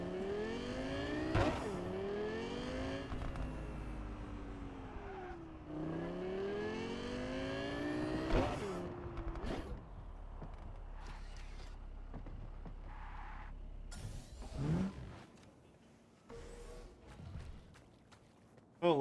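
Vehicle driving in Cyberpunk 2077, engine revving up and down in rising and falling sweeps, then quieter rumbling with footsteps and brief sounds, a voice speaking at times.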